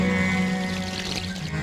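Milk is poured over a goddess idol, a steady, close pouring rush heard over a sustained tonal hum.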